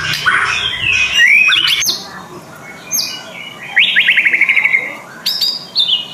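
Oriental magpie robin (kacer) songbird singing alone, with bright whistled phrases, rapid trilled runs and short chirps repeating across several seconds, fairly close and clear over a faint background hiss.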